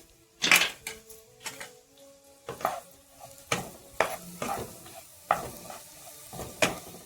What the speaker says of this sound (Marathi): वाटलेली मिरची टाकायची आहे. छान अशी परतून घ्यायची आहे.